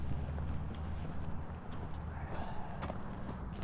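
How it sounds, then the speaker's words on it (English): A horse's hooves clip-clop steadily on a road, mixed into a dense, continuous background rumble. "It's a nice looking horse."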